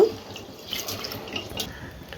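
Water pours softly into a cooker pot of brown rice, a brief faint trickle and splash in a quiet kitchen.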